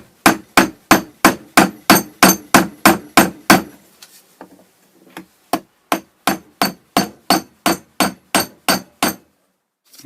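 Hammer striking a saw blade knife handle in a steady, evenly spaced series of sharp taps, a dozen or so, a short pause with a few scattered knocks, then another regular run of blows.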